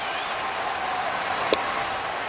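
Baseball crowd at an Astros home game against the Cardinals standing and cheering, a steady broad roar of applause and voices throughout with one brief sharp peak partway through.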